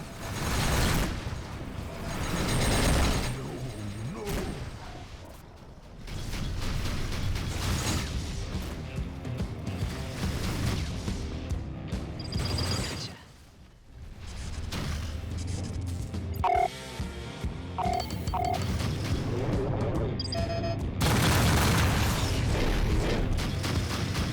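Incoming missile striking a spaceship in the space combat game Rebel Galaxy Outlaw, with booming impacts, crashes and mechanical clanks over a dense, loud rumble of engines and combat noise that briefly dips before surging again.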